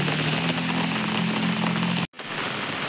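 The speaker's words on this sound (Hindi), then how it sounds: "पहाड़ों पर काफ़ी तेज बारिश है इस वक्त।" Heavy rain pours down in the mountains, a dense, steady hiss of drops beating on surfaces, loud and close, cutting off abruptly near the end before a quieter wash of rain resumes.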